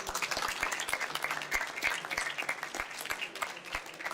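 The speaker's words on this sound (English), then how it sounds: "let's just give everyone a round of applause for that." An audience at a building simulation awards event gives a steady round of applause for the shortlisted entries, many hands clapping densely and evenly at moderate volume throughout.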